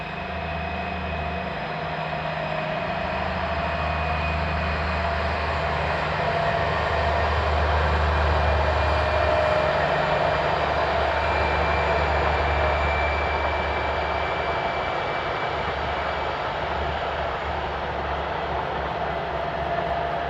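Two class 218 diesel locomotives, 218-422 and 218-404, haul an eastbound train in Europe, giving a loud, steady engine roar and rumble that holds evenly for twenty seconds with no voices.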